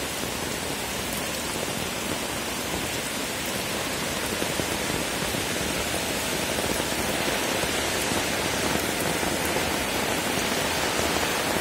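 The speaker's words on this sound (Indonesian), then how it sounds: "Hujan-hujan." Steady rain falls as a dense, even hiss that continues unbroken and fairly loud throughout, with no voices over it.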